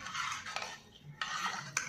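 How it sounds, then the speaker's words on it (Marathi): A spoon stirs turmeric into dal and rice in a cooker with water, making bursts of wet scraping and clinking against the pot, close and repeated with short pauses between strokes. "हळद छान मिसळून घेऊयात।"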